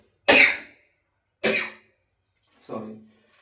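Three separate coughs from a person with a cold, sharp and close, spaced about a second apart, with the last one softer.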